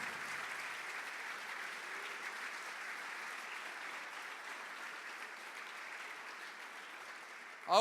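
A congregation applauds with a sustained, even wash of clapping that holds steady for several seconds, then ends with a brief louder sound.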